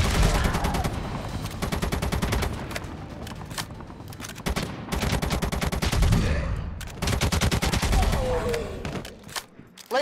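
Gunfire rips through zombies in the video game ZOZ: Final Hour: loud bursts of rapid automatic shots come in several long volleys with brief gaps, plus occasional game effects between them.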